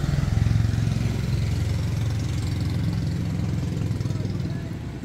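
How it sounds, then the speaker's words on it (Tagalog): A large boat's engine running in its engine room, a steady low rumbling drone with a fast regular pulse, loud and close throughout and easing slightly toward the end. "At maganda yun pagka 6W ang makina."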